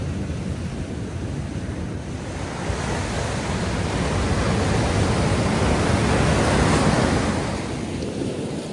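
Steady surf washing onto the shore at low tide on the Jurassic Coast, a continuous broad roar of waves with some wind buffeting on the microphone and no clear breaks.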